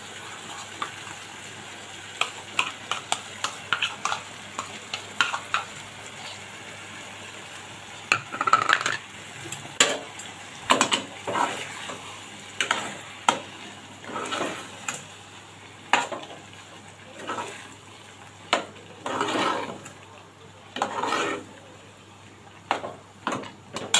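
Ground masala paste frying in hot oil as it is stirred, with a low sizzle broken by frequent spoon scrapes and clinks against the pot.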